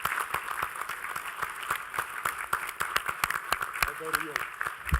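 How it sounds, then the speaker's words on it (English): An audience at a veterans summit applauds its legislative leaders with sharp, scattered claps that keep going throughout, while a voice talks over them. "Let's give them a round of applause."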